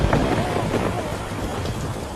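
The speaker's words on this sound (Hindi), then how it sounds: "इस तेज़ बारिश की बूंदें शरीर पर सुई चुभना सा लग रहा था।" Heavy rain pours down in a dense, hissing roar, with a low rumble beneath it.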